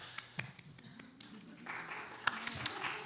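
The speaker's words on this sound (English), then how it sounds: "Amber's giving you pity applause" A few sparse, scattered claps from a single audience member at a pub table draft event, thin and uneven taps spread across the moment, with faint talk and room murmur underneath.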